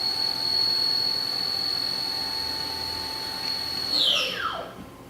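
A 1998 Haas VF-2 CNC mill spindle runs at 6,000 RPM with a steady, piercing high whine over a constant airy hum, then winds down and fades out near the end.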